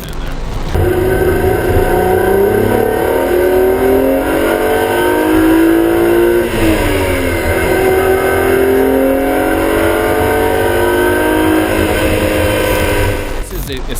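A sports car drives hard in a steady, loud run of engine roar with rising and falling revs, heard close and continuous for most of the stretch, with a voice talking over it.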